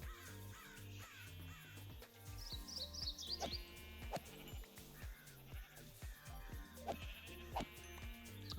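Sheep in the Minecraft video game bleat repeatedly in short, wavering calls at irregular intervals, close and fairly clear over quiet game ambience, with a few brief higher chirps mixed in and no talking.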